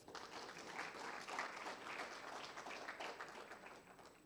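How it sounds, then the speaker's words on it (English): An audience at a book launch gives a steady round of applause, dense clapping held at an even level from start to finish, fairly distant and soft. "please let's all welcome them with a warm round of applause"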